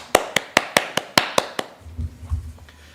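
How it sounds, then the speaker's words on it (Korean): About eight sharp, evenly spaced claps ring out close by to welcome a speaker at a book talk, then stop, leaving a faint low rumble of the room. "박수로 맞이해 주시기 바랍니다"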